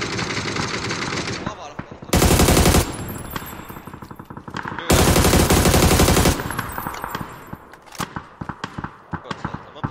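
Rapid automatic gunfire in an online shooter game roars in two long loud bursts, followed by scattered single shots and clicks, with players chattering in between.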